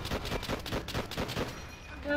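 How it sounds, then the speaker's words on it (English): Rapid gunfire in Call of Duty: World at War on the Wii, a steady stream of close shots in quick rhythm for about two seconds, moderately loud. "So they only seem to be shooting at me."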